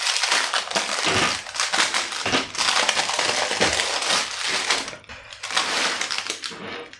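Baking paper is peeled and crinkled off freshly baked morning bread rolls, loud close crackling bursts in several separate pulls with short pauses between.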